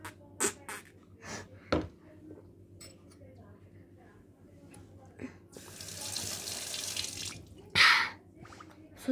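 Liquid pours and splashes into a cup while coffee is made with milk and ice, a steady pouring stream after scattered drips and clinks, with a voice talking at times.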